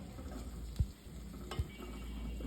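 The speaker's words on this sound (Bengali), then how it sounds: "এখন পরিমাণ মতো হলুদ, ধনিয়া গুঁড়া দিয়ে নেড়ে নিচ্ছি" Fried chopped onions, dusted with turmeric and coriander powder, are stirred in hot oil for an egg and mung dal curry, giving a faint, soft sizzle broken by two dull knocks of the spoon against the pan.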